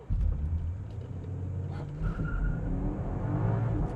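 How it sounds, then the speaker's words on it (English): A 2025 BMW M5 Touring in M2 mode pulls away from a stop, its engine rumble building steadily as it accelerates, heard from inside or close by. "I'm gonna stop, and then I'm going to accelerate again."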